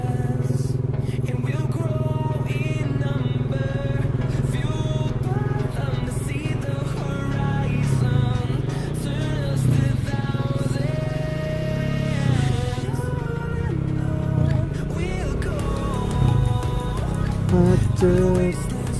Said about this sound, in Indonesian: Knalpotnya kenceng banget soalnya.